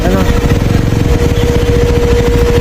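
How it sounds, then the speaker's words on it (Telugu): Motorcycle engines in road traffic, loud close low rumbling and idling pulses running steadily throughout, with a faint tonal whine above. "ట్రాఫిక్ ఇది"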